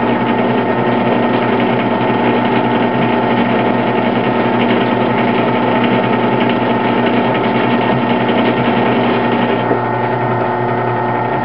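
A drill bit bores into a steel knife blank lubricated with cutting oil, giving a steady, loud mechanical whir with a constant droning hum and no pauses.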